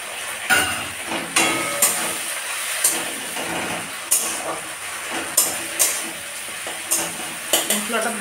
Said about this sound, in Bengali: মশলাটা ভাজা হোক।